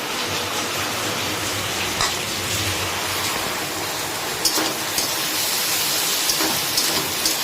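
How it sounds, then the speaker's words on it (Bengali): Heavy rain pours steadily outside, a dense, even hiss of rainfall with a few louder splashes and drips against surfaces, heard alone without talking. "বাইরে দুর্ধর্ষ বৃষ্টি পড়ছে, চলুন একটু দেখাই।"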